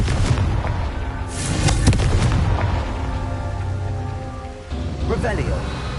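A Confringo blasting spell from Hogwarts Legacy goes off as a series of booming explosive blasts. Crackling debris and rumbling follow over a noisy, dense game soundscape.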